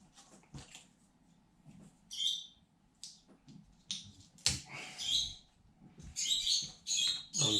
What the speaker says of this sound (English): you can hear the bird going ballistic in the background